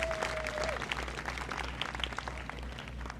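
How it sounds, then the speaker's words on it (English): An audience at a charity tennis classic fundraiser gives steady, moderately loud applause, a dense wash of clapping throughout with no talk over it. "That deserves a huge round of applause."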